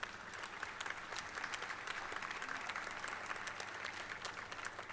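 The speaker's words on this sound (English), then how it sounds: "All of you may please applaud for the recipients of proficiency gold medals." Audience applause at a university convocation for proficiency gold medal recipients, a dense continuous clapping from many hands, fairly distant and even throughout.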